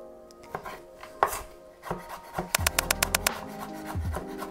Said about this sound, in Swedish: Och så dessa hackar vi också i små tärningar.